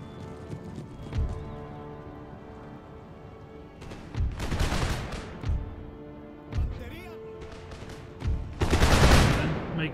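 Artillery fire in Empire: Total War's Venice campaign, with repeated booming blasts at irregular intervals over a steady bed of clopping and neighing cavalry horses, while voices talk throughout.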